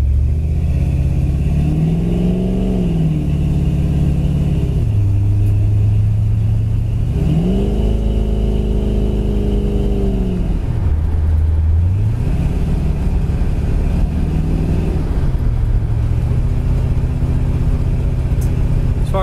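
A 1970 Ford Mustang Fastback restomod engine runs continuously and loudly close by, its pitch rising and falling in slow waves as it idles and revs gently.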